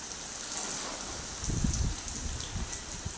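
Rain falls in a village setting, a steady soft patter with a louder burst of drops and dripping in the middle, no speech.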